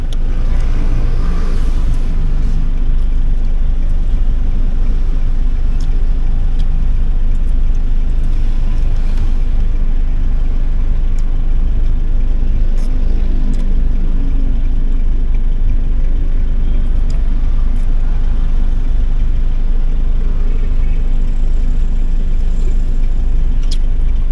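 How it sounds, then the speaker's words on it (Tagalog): Heavy road traffic heard from inside a car stuck in a jam, a loud continuous rumble of engines and tires with occasional brief higher-pitched sounds from passing vehicles throughout. "Inabot kami ng mga traffic eh."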